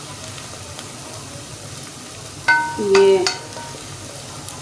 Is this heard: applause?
no